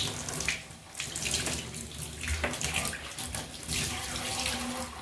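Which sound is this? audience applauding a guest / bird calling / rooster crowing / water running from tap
water running from tap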